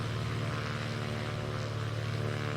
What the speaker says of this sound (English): beautiful aircraft. My favorite plane to fly in Sim by far.